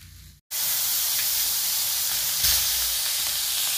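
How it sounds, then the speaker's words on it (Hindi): Fish frying in hot oil in a rustic kitchen gives a loud, steady hiss and sizzle that starts abruptly after a brief gap and continues unbroken to the end, with a short brighter surge partway through. "तो जासर मछली फ्राई कर लिए हैं"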